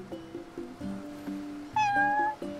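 A cat meowing in the video game Final Fantasy XV, one drawn-out rising meow standing out clearly over a soft game music background, with no talking.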